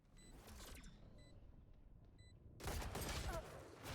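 Gunfire in Valorant comes as short distant shots over a quiet stretch, then a louder dense burst of rapid fire near the end.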